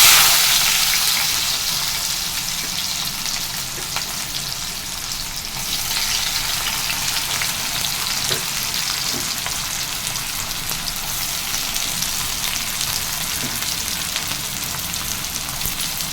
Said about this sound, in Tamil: நல்லா வதக்கு. நல்லா வெங்காயம் வதங்கட்டும்.